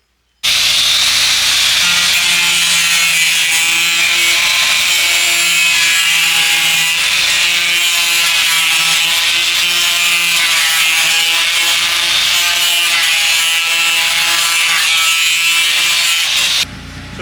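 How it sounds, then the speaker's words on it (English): A circular skill saw cuts through a plastic sheet with a loud, continuous high-pitched whine and rasp that holds steady for about sixteen seconds and then stops abruptly. "it says online that you just use your skill saw to cut it, so that's what we're going to try to do."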